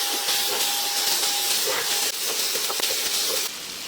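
Garlic, onion and shiitake and mixed mushrooms sizzle in a hot pan, a steady, loud broadband hiss that runs unbroken throughout, with a faint thin tone in the background.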